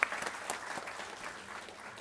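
A crowd applauds to welcome guests at a college inauguration event, a soft, continuous wash of clapping heard at a distance and fairly faint.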